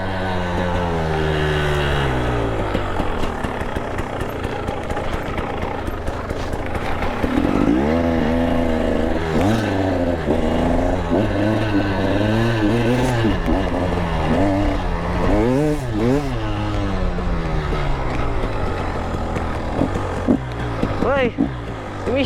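An enduro motorcycle on a hard enduro trail rides up close, its engine revving repeatedly in rising and falling bursts over a constant loud drone, with occasional shouts.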